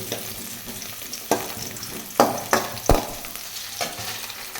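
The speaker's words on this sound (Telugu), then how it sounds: "ఆయిల్ కొంచెం హీట్ అయిన తర్వాత క్యారెట్ ముక్కలు వేసి కొంచెం వేగనివ్వాలి" Carrot pieces fry in hot oil in a pan for gobi rice, with a soft, steady sizzle and several sharp clatters as a spoon stirs and scrapes the pan.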